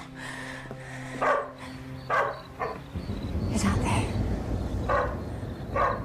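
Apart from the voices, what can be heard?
dog barking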